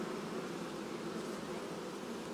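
Honeybees swarm around an outdoor beehive, producing a dense, steady buzz that fills the air without a break, close and even, with no voices.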